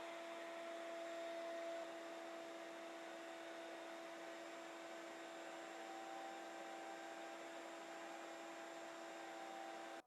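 Dust collector pulling air through a 10-foot run of crinkle hose in a small DIY shop setup, a steady, even whooshing roar with a constant tonal hum that holds unchanged from start to finish, with no talking.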